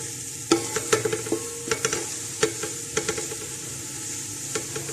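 Onions frying until light brown in a pan, sizzling steadily while a utensil stirs and scrapes them with close, irregular knocks and clinks, no one speaking.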